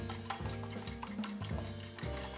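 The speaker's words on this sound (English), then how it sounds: "we mix up our eggs into a nice combined egg whisk" Eggs whisked in a bowl, a quiet close rhythmic beating with regular strokes about twice a second, steady and alone with no talk.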